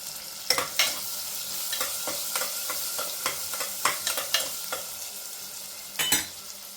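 Onion goes into a hot tempering of mustard seeds, cumin and asafoetida for a Maharashtrian thali, sizzling softly while a spoon stirs it in repeated scraping clacks, close and fairly quiet.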